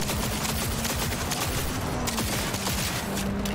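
Gunfire from the video game Cyberpunk 2077 rattles on steadily, a loud, continuous volley of automatic shots with a low engine-like drone underneath.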